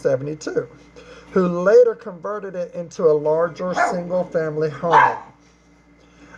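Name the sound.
dogs barking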